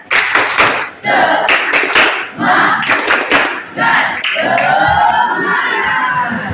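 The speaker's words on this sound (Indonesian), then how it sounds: "Tepuk semangat" A classroom of children performs a rhythmic 'tepuk semangat' clapping chant, with sharp clap bursts in a steady pattern mixed with loud group chanting, ending in a sustained shouted cheer.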